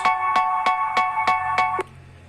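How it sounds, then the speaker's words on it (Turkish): A phone ringtone plays up close as a steady electronic melody with regular pulses, about six evenly spaced beats, then stops abruptly. "Pardon telefonumuz çaldı."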